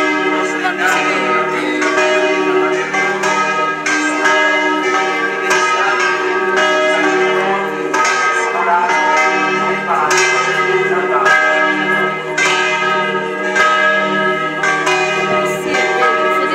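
A large church bell rings steadily throughout an outdoor religious procession in Mesagne, loud and sustained with repeated strikes and lingering overtones, some crowd murmur faintly underneath.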